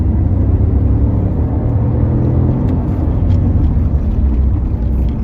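Cabin recording of a manual-gearbox Porsche Panamera S with its naturally aspirated V8 driving at a steady cruise, a loud continuous low engine drone and road rumble without much change in pitch, no speech.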